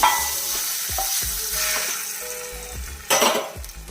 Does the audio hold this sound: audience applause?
no